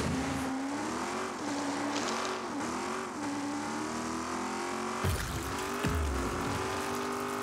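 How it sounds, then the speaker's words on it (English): A classic Ford car engine in the game Rocket League roars steadily and loudly, its pitch rising and dipping with revs, then briefly cutting out and surging again near the end, with no talk. "the sound of a classic engine just absolutely roaring in the background"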